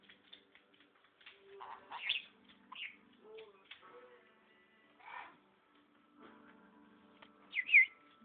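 Pet birds chirp and tweet indoors in a house, a scatter of short, fairly faint calls with soft coo-like notes and a brighter chirp near the end, no talk over them.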